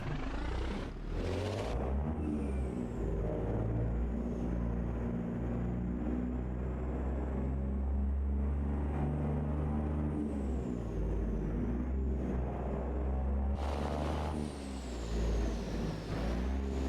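A Kenworth T800 truck backing in a trailer in American Truck Simulator: a loud, steady diesel engine drone throughout, with a sharp air-brake hiss at the start and another near the end, plus faint high whistling tones.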